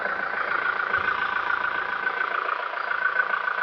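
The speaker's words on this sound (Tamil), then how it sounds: "வாங்க இன்ஜின் சவுண்டை நோட் பண்ணுவோம்." A 2017 Toyota Innova Crysta with a 2.4-litre diesel engine and over 100,000 km on it idles with a steady, even, mid-pitched rumble heard up close, with no talk over it.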